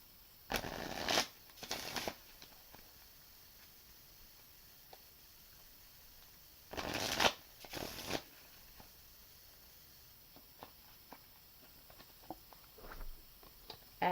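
A deck of reading cards being shuffled, two pairs of quick riffling bursts close by separated by quiet pauses, with faint light handling noises between them.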